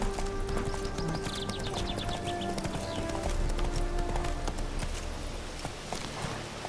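Hoofbeats of a horse galloping in The Witcher 3, a steady rapid clip-clop carried over dense game ambience and music throughout.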